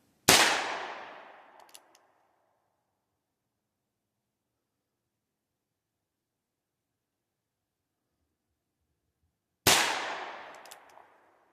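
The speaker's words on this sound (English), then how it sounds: "So 4 3/4 inch Heritage Rough Rider, 22 Magnum in about 10-ish yards." A Heritage Rough Rider .22 Magnum revolver with a 4 3/4 inch barrel fires 40 grain CCI Maxi Mag rounds. Two sharp, loud shots land about nine seconds apart, and each rings out and fades over a second or so, with silence between them.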